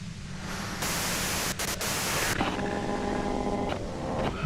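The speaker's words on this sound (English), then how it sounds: "you can do it through the white noise" A radio-like device in Disco Elysium bursts into a harsh wash of white-noise static for about a second and a half, then settles into a fainter hiss with humming tones beneath.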